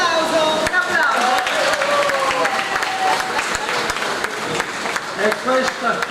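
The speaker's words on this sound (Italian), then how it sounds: "Un applauso, un applauso." Applause rises at a ski instructors' conference in Cleulis, with a crowd clapping steadily under a voice speaking over it.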